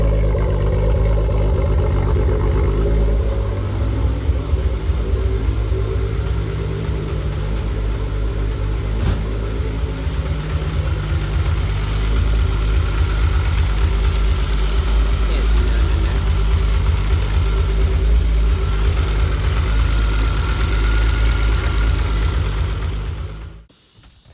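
A car engine idles steadily and loudly, a deep continuous rumble with slight fluctuations, before cutting off abruptly at the end.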